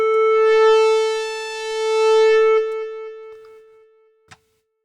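Synthesizer oscillator in a modular patch producing a steady harmonic-rich tone whose pitch rises while its volume fades, clean and alone, ending with a brief click.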